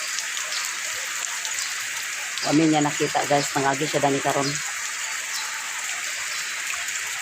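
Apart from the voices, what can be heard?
rain falling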